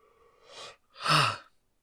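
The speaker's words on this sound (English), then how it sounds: "I cannot stop yawning, and I don't know why" A person yawns: a faint breathy intake followed by a louder, drawn-out open-mouthed yawn with a voiced tone, close and alone, lasting about a second.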